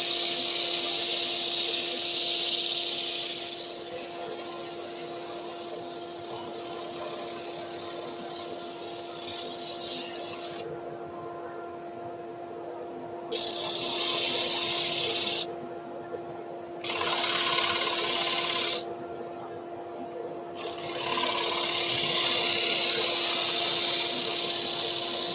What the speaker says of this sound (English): now we're just sanding to the top of your corner up here